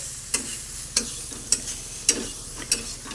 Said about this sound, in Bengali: সেদ্ধ করে রাখা আলু আর সয়াবিনগুলো দিয়ে দেবে তো ওগুলোকে দিয়ে এখন একটু ভালো করে নাড়িয়ে নিচ্ছে